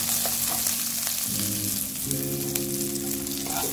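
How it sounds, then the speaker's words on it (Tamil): Garlic and curry leaves fry in a pan for a South Indian fish curry, giving a loud, steady sizzle that runs unbroken from start to finish with no voices. "இது போட்டு நல்லா வதக்கி எடுத்துடலாம்"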